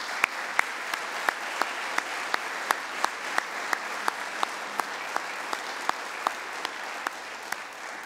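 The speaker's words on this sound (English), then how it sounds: "So I would love to give a round of applause to our great staff" An audience at a university state-of-the-address event applauds its staff, a moderate, even patter of many hands with a few sharp individual claps standing out, heard from a distance and sustained throughout.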